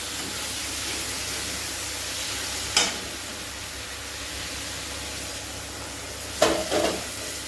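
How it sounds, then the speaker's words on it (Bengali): Pointed gourd fries in oil in a pan with a low, steady sizzle; two brief scraping stirs break through, one near the start and a double one near the end. "একটু নাড়াচাড়া করে নামিয়ে দিব। হয়ে যাচ্ছে ভাজা ভাজা, একটু তেল উঠে গেছে।"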